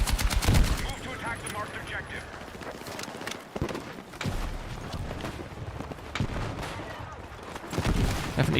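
Battlefield 6 gameplay fills with dense gunfire and explosions, a constant clatter of rapid shots and heavy blasts at moderate loudness with no pause.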